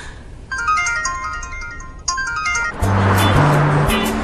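A melodic phone ringtone rings loudly, in two bursts of tonal notes that stop when a low droning vehicle-like tone with bright noise takes over near the end.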